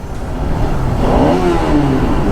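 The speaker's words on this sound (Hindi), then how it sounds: "सबसे अच्छी चीज़ जो मुझे इस बाइक की स्टार्टिंग में लगी थी वो थी इसकी आवाज़। भाई क्या दहाड़ती थी" A Bajaj Pulsar RS200 motorcycle engine revs up loud and close, its pitch rising and swelling through a short throaty burst before settling into a strong, steady note.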